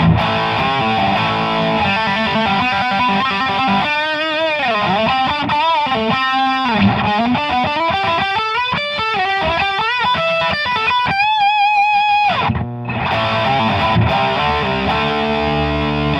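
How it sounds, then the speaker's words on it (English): An electric guitar runs through a Revv G3 distortion pedal in an amp's effects loop, giving thick, saturated chords and sustained lead notes that ring loud and continuous, with a short break near the end. "mess around for a few minutes with the Revv G3 in the effects loop"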